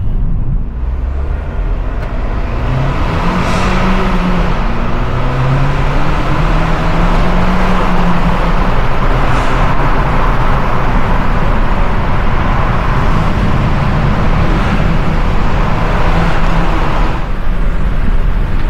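An Abarth 595 Turismo being driven, a steady loud roar of engine and road noise heard from inside the car, with slow rises and falls in engine pitch throughout.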